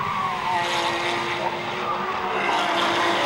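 Porsche Carrera Cup race cars lapping the Nürburgring Nordschleife, a continuous loud engine roar with a steady high whine, close and sustained throughout without speech.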